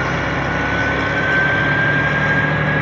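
A 113 truck engine runs steadily at low rpm, about 900, just after a gear change, with a close, loud, even rumble and no one speaking.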